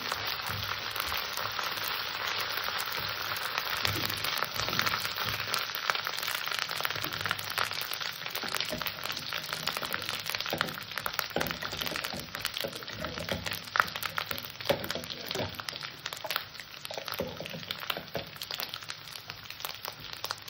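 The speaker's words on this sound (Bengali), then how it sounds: "এখানে দিয়ে দিলাম আদা, রসুন আর কাঁচা লঙ্কা বাটা। এটাকে আমি হালকা একটু কষে নেব" Ginger, garlic and green chili paste sautéing in hot oil, a steady dense sizzle and crackle running the whole time with scattered pops, close and fairly loud, no voices.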